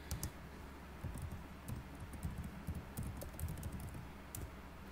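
Computer keyboard typing at a desk, a quiet steady patter of keystrokes with a few sharper clicks over a low background hum.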